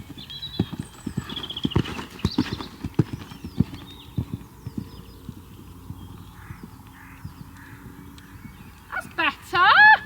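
A horse's hooves canter around a riding arena in a rhythmic, fairly close clip-clop, while a trainer speaks over it and a whinny-like sound comes near the end.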